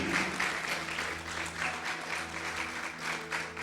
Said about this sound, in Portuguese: Vocês podem aplaudir ao Senhor?